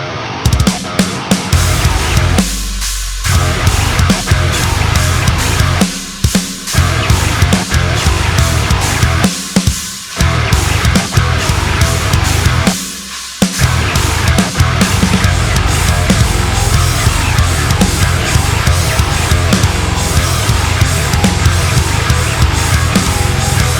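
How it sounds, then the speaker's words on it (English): A deathcore riff on an 8-string guitar tuned to F standard pounds out dense, heavily distorted low chugs, broken by a few short stop-start pauses, loud and continuous throughout. "It's in F standard on an 8-string guitar,"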